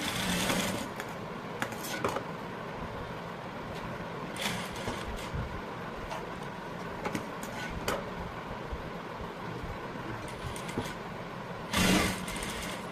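A sewing machine stitches a three-dot blouse, running as a faint, continuous mechanical whir with a few brief louder bursts.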